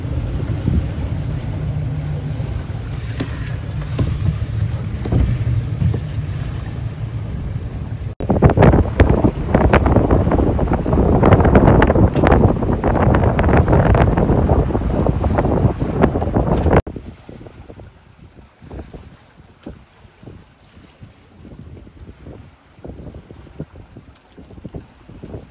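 Wind roars and waves crash around a sailboat during a November winter storm with rain. A rumbling gust gives way to a loud stretch of buffeting and splashing, then calmer, patchy wind noise.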